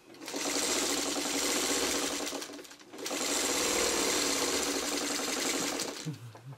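A sewing machine stitches quilt block pieces together in two long, steady, close runs of rapid whirring, separated by a short pause, with a faint clunk at the end.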